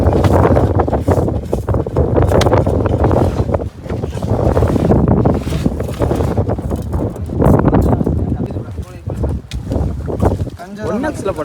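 Strong wind buffets the microphone on a fishing boat at sea, roaring and gusting steadily while people talk over it.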